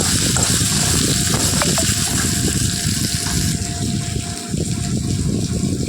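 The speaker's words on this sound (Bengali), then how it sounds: "আলুগুলিকে এখন ভেজে নেব একটু হলুদ গুঁড়ো দিয়ে" Potato pieces fry in hot oil with turmeric powder, producing a loud, steady sizzle with scattered small crackles and a brief scrape of stirring.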